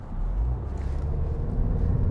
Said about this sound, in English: Definitely a lot of road noise right now compared to other vehicles.